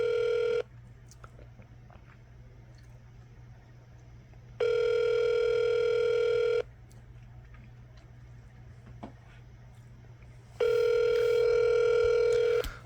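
An unanswered telephone call gives a steady electronic ringback tone in three long, even bursts of about two seconds each, separated by quiet gaps of several seconds, with no voices.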